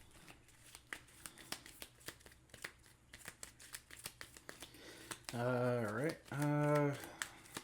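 A deck of cards for the Marvel United board game being shuffled, a rapid run of crisp riffling snaps spaced through the clip at close range, with someone speaking briefly over them.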